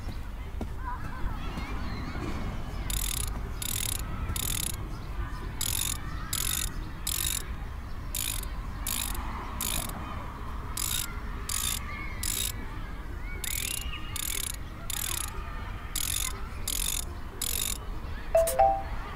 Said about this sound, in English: Unscrew the metal nuts.